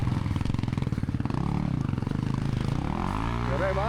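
An enduro motorcycle engine at an enduro race event runs with a rough, pulsing throb that climbs in pitch toward the end as it revs.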